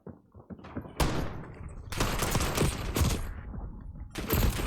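Sniper fire in the video game Black Ops 6 comes as heavy booming shots and bursts, several loud blasts in quick succession with mechanical clatter between them, loud and close with no talk.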